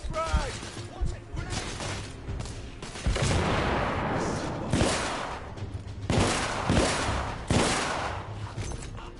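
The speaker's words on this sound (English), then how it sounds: "Throwing frag." Combat in the video game The Order: 1886, with a frag grenade thrown amid gunfire: repeated loud bursts of shots and booming impacts crowd a dense, continuous battle din.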